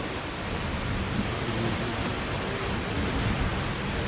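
Steady rain falling in a village as a storm darkens the afternoon, a dense, even hiss with faint low rumbling thunder underneath, heard alone without voices.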